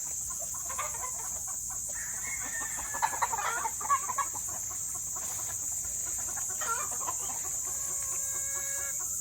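Fighting cocks and their chicks on a farm cluck and chirp with a few sharp calls, steady and close, over a constant high insect-like hiss.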